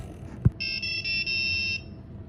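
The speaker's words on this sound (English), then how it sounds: "GOLDILOX even plays a little victory tune" A homemade Arduino temperature device beeps out a short victory tune after a single thump, a few bright electronic tones in a quick melody, clear and close.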